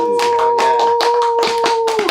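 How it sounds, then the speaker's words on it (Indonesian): A small audience claps in quick uneven bursts over a steady tone, close and fairly loud, lasting about two seconds. "Tepuk tangan semuanya."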